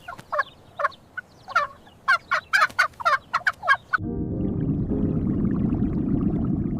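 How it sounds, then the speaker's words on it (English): A turkey gobbles in a quick run of sharp, rattling bursts for about four seconds, close and clear. Then the calls stop and a steady, low, even rumble takes over. "Turkey."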